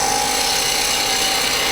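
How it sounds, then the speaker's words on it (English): A spindle gouge cuts into wood spinning on a lathe, giving a continuous loud hiss and rasp with a steady whine and no pauses. "I'm just using the spindle gouge to kind of scoop and move."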